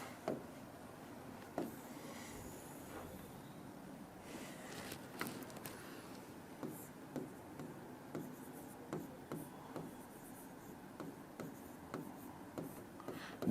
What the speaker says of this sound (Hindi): चलो इधर लिखता हूं मैं।